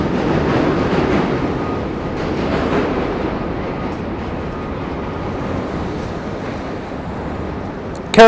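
A train rumbles past in DUMBO, New York City, a steady, loud, rolling roar that holds evenly for the whole stretch without voices, ending on a sudden louder burst.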